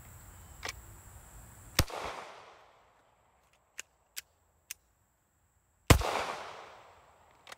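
Two sharp pistol shots fired at a range, each a loud crack with a short decaying tail, separated by a few seconds of quiet with faint clicks of handling between them.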